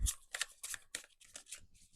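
Tarot cards being shuffled by hand, giving a quick run of crisp, papery riffling bursts at close range with no talking over them.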